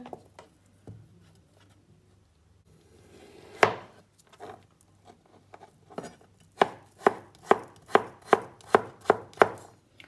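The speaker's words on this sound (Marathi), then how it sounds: "ते भाशेन हांव बटाट कातता, आमकां बारीक तितून बारीक कातरपाचो" A knife chops potatoes finely on a board. It starts with a few scattered cuts, then settles into a steady run of sharp, close, evenly spaced chops.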